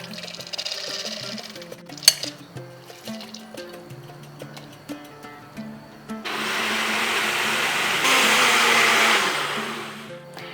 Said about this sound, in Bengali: সুজিটা বাটার পরেই মুগ ডালটাকেও আমি বেটে নেব,